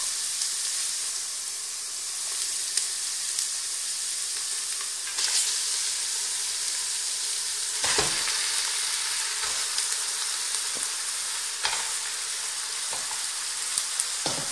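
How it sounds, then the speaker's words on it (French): Marinated lamb browning with onions for a tagine with apricots and walnuts, giving a dense, continuous close sizzle with occasional clicks and scrapes as the meat is turned. "Et je la fais colorer dans ce mélange en la remuant sur les deux côtés pendant 5 minutes"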